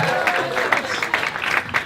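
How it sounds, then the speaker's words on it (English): Wedding guests applauding the groom at a golf club reception, a short burst of steady, lively clapping from a crowd close by, with no talking over it. "I think he needs just another round of applause."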